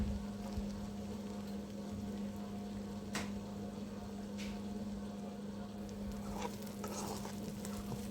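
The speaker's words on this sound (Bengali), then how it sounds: "এরপর আমি পেঁয়াজ কুচি দিয়ে দিলাম।" Chopped onion frying in hot oil with ginger-garlic paste for tawa chicken, a low continuous sizzle with occasional stirring scrapes and a steady hum underneath, quiet and close, no talking.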